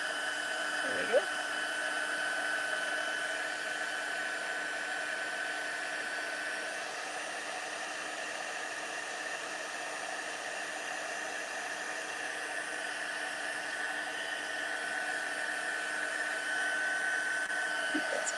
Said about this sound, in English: So we will just heat this until it's melted.